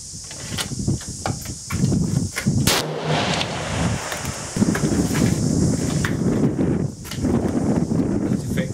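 Rifle fitted with an aftermarket American muzzle brake fires outdoors, a sharp report midway followed by echo and rustling, with movement and handling noises around it.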